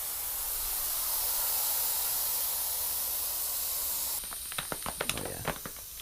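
Air hisses steadily out of a trials bicycle tire for about four seconds in a close, even spray, then gives way to faint handling clicks and taps.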